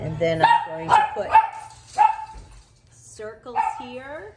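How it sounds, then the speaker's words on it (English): A dog barks several times nearby in short sharp yaps while a person speaks over the barking. "I'm sorry, that's my dog"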